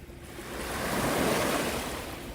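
Ocean waves wash onto a beach at Port Hope on a hot day, a broad rushing surf that swells and then eases, close and moderately loud, with wind mixed in.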